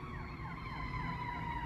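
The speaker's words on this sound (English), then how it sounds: "Ooh, gotta hear some sirens." Sirens wail with sweeping, overlapping tones, fairly distant but clear over a steady low rumble.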